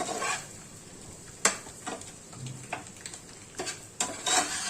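A spatula stirs an egg and capsicum fry in a pan, giving soft scraping strokes with a few sharp taps against the metal, spaced irregularly and heard up close.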